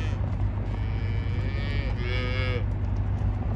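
Cattle moo on a farm, two long, loud, low calls one after the other over a steady rumble of rain and wind.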